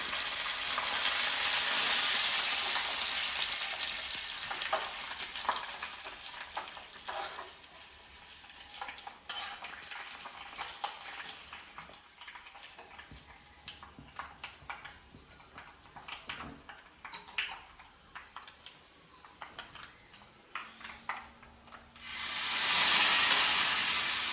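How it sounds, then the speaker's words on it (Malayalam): Dried chillies and curry leaves fry in hot oil, a steady close sizzle with stirring scrapes and clinks running throughout, loudest at the start and surging again near the end. "നമുക്ക് ഉണക്കമുളകും കറിവേപ്പിലും ഇടാം"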